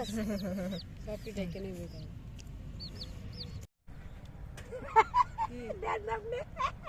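Hens cluck in short, repeated calls at close to moderate distance, mixed with a few sharper squawks, while people talk over them.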